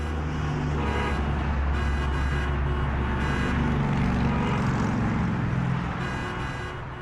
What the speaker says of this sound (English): those car horns mean it's time for Around the Block